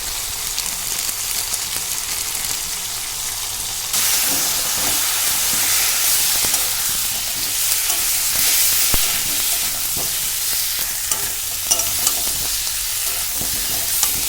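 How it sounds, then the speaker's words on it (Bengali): Potatoes fry with turmeric, chili and cumin powder in a pan for a winter-vegetable khichuri, giving a steady close sizzle that swells louder after a few seconds and hisses on without talk. "দেখো আলুটা আমার কষানো হয়ে এসছে এবার আমি আদা বাটাটা দিয়ে দিলাম"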